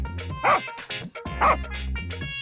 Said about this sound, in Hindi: कुत्ता सनकी लाल के पास जाकर जोर से भौंकने लगता है।